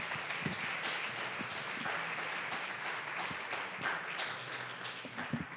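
Lecture audience applauding at a talk, a steady dense wash of many hands clapping throughout, fairly loud and continuous with a few louder individual claps standing out.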